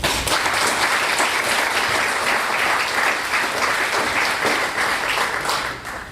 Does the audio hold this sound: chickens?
no